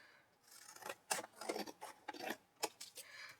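Scissors make a quick series of soft snips and rubs while trimming excess hand-dyed fabric in a quiet room for a mixed-media piece.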